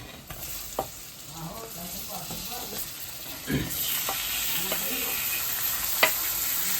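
Paneer curry masala with turmeric, coriander powder, garam masala and tomatoes sizzles and fries in a pan, with steady frying hiss and occasional stirring scrapes, close and alone.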